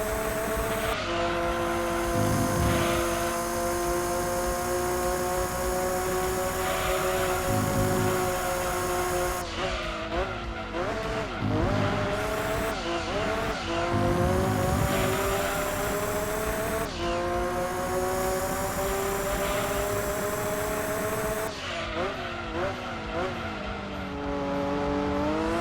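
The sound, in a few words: race car driving and braking in video game Gran Turismo 2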